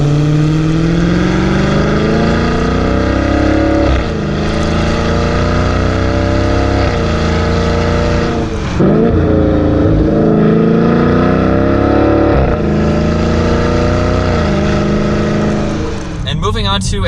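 A 2020 Dodge Challenger R/T Scat Pack Widebody drives along with a loud, continuous engine drone that rises and drops through gear shifts, with someone talking over it.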